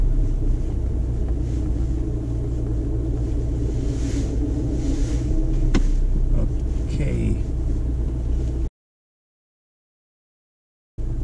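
A car driven by a nine-year-old girl on her first drive gives a low, steady engine rumble heard from inside the cabin, then cuts to silence near the end.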